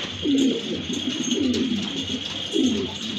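A pair of large pigeons coo in short repeated throaty phrases close by, three or four low rolling calls over a quiet background with no speech.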